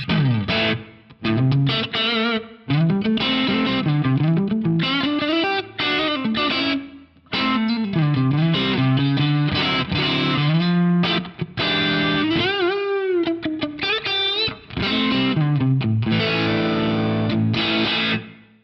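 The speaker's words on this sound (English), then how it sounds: "So it's a reverb IR, it's a stereo pair, pan hard left, hard right, and it sounds like a reverb, quite a nice reverb as well." An electric guitar, distorted and chorused, plays through a stereo Bricasti M7 reverb impulse response on an Axe-Fx III, panned hard left and right. Loud strummed chords and sliding notes ring with a lush reverb tail, with short gaps between phrases.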